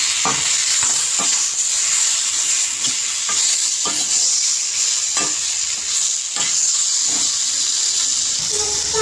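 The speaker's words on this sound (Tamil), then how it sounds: "இந்த மாதிரி வதக்கிட்டு தக்காளி அது கூட சேர்த்துக்கோங்க" Loud, continuous sizzling and hissing of tomatoes frying in a pan, with occasional scraping stirs, close up.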